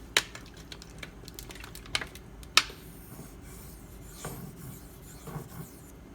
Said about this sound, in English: All this is doing pretty much is polishing the bevel.